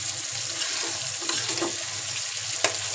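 Fish frying in a pan, a steady soft sizzle with a faint running-water character and a few small clicks, no voices.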